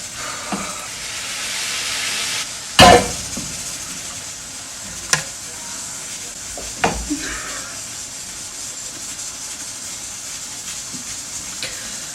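Rice with a pinch of turmeric is stirred in a hot pot while making mansaf, a low steady hiss broken by a sharp loud clatter early on and several lighter spoon knocks.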